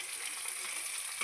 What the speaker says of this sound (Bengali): আর এই যে মাছের তেলটা ভাজছি,